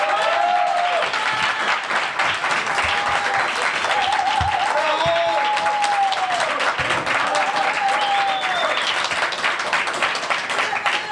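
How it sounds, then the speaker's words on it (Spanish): Crowd applause welcoming Juan Grabois: sustained, dense clapping at a steady loud level for several seconds, with brief voices and whistle-like tones rising through it. "voy a pedir un fuerte aplauso acá para recibir a Juan Grabois"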